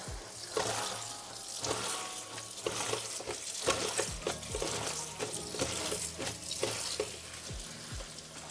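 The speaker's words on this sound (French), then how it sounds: "Et là, on rince bien." Water runs from a kitchen tap while food is rinsed during a cannelloni and chard recipe, a steady close splashing wash with clatters and knocks of utensils or dishes throughout, no talking.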